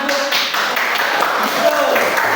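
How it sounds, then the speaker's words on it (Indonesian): Classroom applause from a group of primary school pupils, a dense, steady patter of many hands that fills the whole short stretch at an even loudness. "tepuk tangan untuk"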